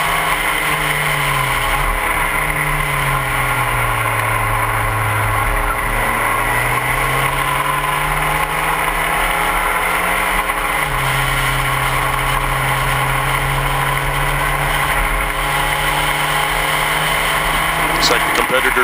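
Spec Racer Ford race cars at Laguna Seca drone steadily through turn 9, engine pitch rising and dropping with shifts, loud and continuous under a commentator's voice.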